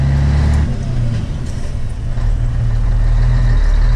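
A heavy truck engine with a loud, low rumble that dips briefly as a gear is engaged, then builds again as the rig pulls away, the engine sound staying close throughout.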